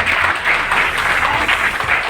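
A gathered crowd at a public event claps together in a thick, continuous burst of applause, loud and close, with slight swells and no talk over it.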